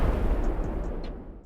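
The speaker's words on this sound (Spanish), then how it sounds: "Todos en la mina vieron la explosión." A deep, rumbling explosion in a mine in an animated fantasy story, loud and sustained from the start and slowly fading away, with faint high ringing tones over the tail.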